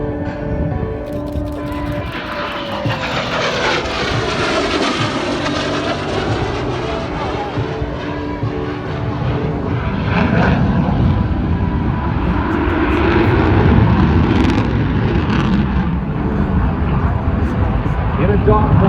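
Loud, low-flying fighter jet at the Oshkosh airshow in Wisconsin, a sustained roaring engine whose pitch sweeps as it passes close, swelling louder over the clip, with a commentator talking over it.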